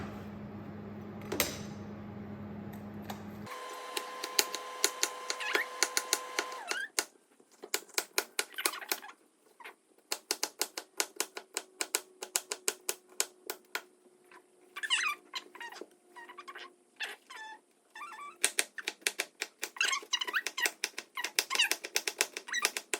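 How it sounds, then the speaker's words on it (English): A knife chops a capsicum on a board in quick, crisp, repeated strokes, the clicks close and steady in runs with short pauses between them. "I'm gonna cut one capsicum."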